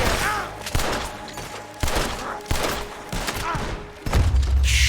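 Gunshots in Red Dead Redemption 2, a handful of sharp, loud reports spaced roughly a second apart over game ambience, with a heavier thump at the end.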